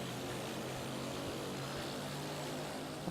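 Steady, droning propeller-plane engines from the 007: Nightfire video game, a continuous low hum with even loudness throughout and no voices over it.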